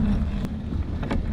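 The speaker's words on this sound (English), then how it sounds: "the wind's starting to pick up here" Strong wind buffets the microphone out on the water on a crab-fishing boat, a loud continuous low rumble with gusty surges.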